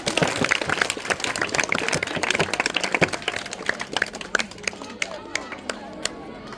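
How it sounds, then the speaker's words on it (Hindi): A crowd claps in a dense burst of applause, loud at first and thinning into scattered claps, with voices mixed in. "जोरदार तालियां होना चाहिए।"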